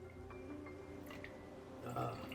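Saratoga still bottled water is poured from a bottle, with a quiet trickle and small drips falling back near the spout, fairly close and soft.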